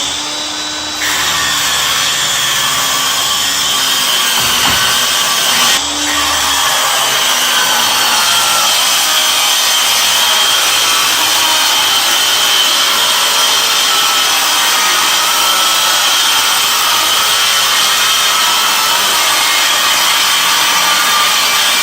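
A saw ripping along a wooden board for a farm-style dining table, a loud continuous whine and rasp that runs steadily for the whole stretch after a brief start, with no pauses or talk.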